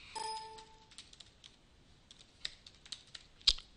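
Someone types a password on a computer keyboard: scattered quiet key clicks with a few sharper taps, preceded by a brief chime-like tone at the start.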